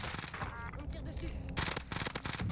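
Bursts of rapid automatic gunfire in the Warzone video game, close and loud, with rattling volleys mixed under voices talking.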